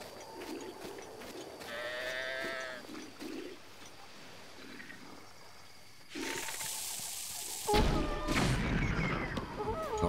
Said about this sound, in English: There's the sheep that they've picked.